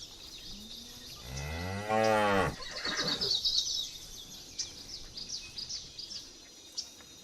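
Buffalo herd in the wild: one loud, drawn-out bellowing low close by, followed by fainter rustling and chirps in the background.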